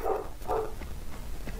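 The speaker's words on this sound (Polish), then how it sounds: "czego ten pies drze mordę tam?" A dog in the video game Far Cry Primal barks twice in close succession, short loud yelps near the start, followed by fainter scattered barks trailing off in the background.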